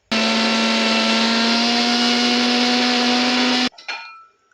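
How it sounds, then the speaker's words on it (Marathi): A kitchen mixer grinder whirs at full speed, loud and steady with a high motor whine, as it grinds rava with sugar and cardamom powder, then cuts off abruptly and rattles briefly to a stop. "आता मिक्सरचं भांडं मिक्सरला लावून घेतले. छान असं गर्र करणं फिरवून घेऊया."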